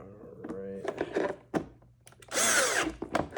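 A power drill driving screws into a Ryobi 18V ONE+ HP lawn mower (model P1190) during repair, with short whirring bursts and a longer run near the end, close up among clunks and handling noises.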